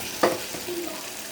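Egg bhuna sizzling as it is fried and stirred in a pan: a soft sizzle with a brief scraping stir near the start, close and fairly quiet, no talk.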